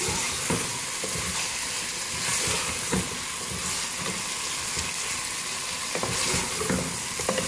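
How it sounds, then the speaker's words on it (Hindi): Steady, close sizzling and crackling of chicken frying in a hot pan with onion, garlic and ginger paste, with occasional stirring scrapes and no voices. "अच्छी तरह से मिक्स करेंगे, भूनेंगे इसको।"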